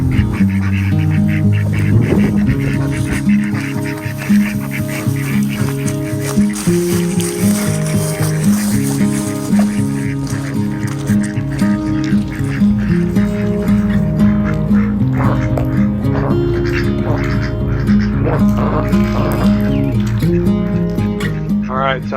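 Ducks quack repeatedly at night in a noisy, crowded chorus, close by and loud throughout, with some honking mixed in and a voice occasionally talking over them.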